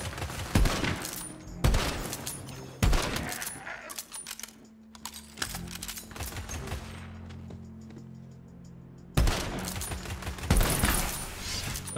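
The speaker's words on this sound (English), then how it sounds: "Why are you shooting up there?" Rapid bursts of gunfire from the video game Tiny Tina's Wonderlands, with loud clusters of shots separated by short gaps and quieter stretches between them. No one talks.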